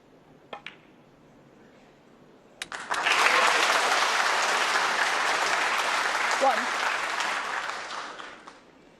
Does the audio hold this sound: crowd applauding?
yes